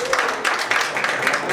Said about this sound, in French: N'hésitez pas à applaudir.